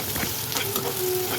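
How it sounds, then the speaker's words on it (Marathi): Onion, tomato, chillies, curry leaves and spices sizzle and get stirred in a hot pan for pav bhaji, a close, continuous frying hiss with scraping stir strokes and no voices. "आणि छान असं एकजीव होऊस तर ते परतून घ्यावूया"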